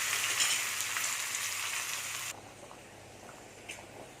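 Asafoetida and curry leaves tempering in hot oil for a Chettinad brinjal and drumstick pachadi, a steady close sizzle and crackle that drops to a quieter fry partway through, with no talking.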